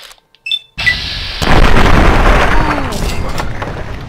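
Mines in Fallout 3 explode in a heavy booming blast that sets off a long rumbling roar, preceded by a few short game beeps and clicks, with the rumble fading slowly.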